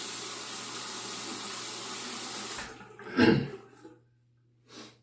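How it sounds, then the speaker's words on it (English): Tap water runs briefly into a sink to wet a Gillette Fatboy safety razor, a close, full gush that cuts off, followed by quiet with a faint later splash. "Let me wet the razor."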